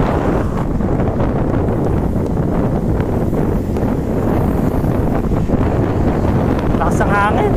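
On a bike trip, strong wind buffets the microphone of a rider in a loud, continuous rumbling gust that covers the whole stretch.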